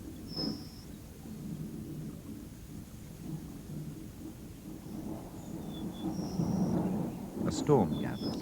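Distant thunder of the first storm of the rainy season rolls low and continuously through a wild landscape, swelling louder toward the end, with faint bird calls above.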